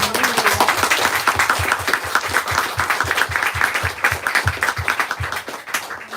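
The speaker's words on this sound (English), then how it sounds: "let's give a round of applause" A crowd at a book talk applauds steadily throughout, a dense wash of many hands clapping at close range, loud and sustained.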